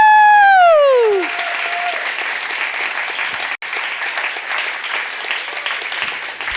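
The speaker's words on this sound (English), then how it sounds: "One more round of applause for the winning team!" A conference audience applauds the winning team, dense steady clapping from a crowd that follows a loud sustained vocal whoop and continues evenly for several seconds.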